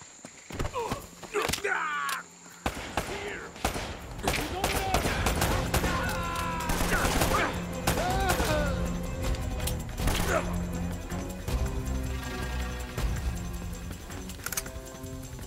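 Enemy gunfire in Uncharted: Drake's Fortune, a video game, crackles in repeated bursts and volleys through the firefight, mixed with music, effects and talking characters.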